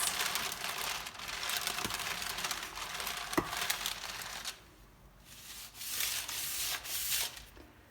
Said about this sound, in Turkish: Bunu bu şekilde döndürerek yavaş yavaş açacağız.